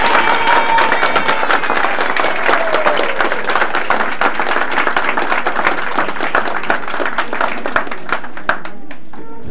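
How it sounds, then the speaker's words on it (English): Loud, dense applause from an audience at a 1977 Buffalo mayoral campaign event at St. Augustine's Center, steady crowd clapping sustained for about nine seconds before tapering off into a few last claps. "I think we should give him a great round of applause"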